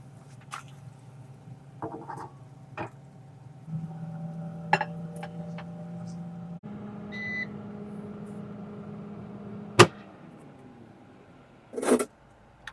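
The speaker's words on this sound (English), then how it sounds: "for toast, you need to put it at 270, air fry, 3 minutes" An air fryer toasting wheat bread runs with a steady low hum and a higher whine, punctuated by a few clicks and taps, then sharp beeps near the end when it finishes.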